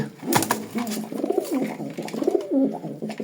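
Racing pigeons coo in a steady series of throaty, rolling calls, close and clear with no voices over them.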